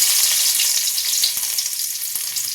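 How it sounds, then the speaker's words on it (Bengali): Dried red chilies and garlic crackle in hot oil in a wok, a steady close sizzle with scattered small pops and occasional soft clicks, no voices. "দেখো কড়াতে তেল গরম হয়ে গেছে এতে দিয়ে দেবো দুটো শুকনো লঙ্কা ফোড়ন অল্প সামান্য রসুন"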